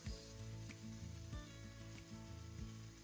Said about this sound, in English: now I'll add the garlic. And then I'll stir that and cook that for a few more minutes.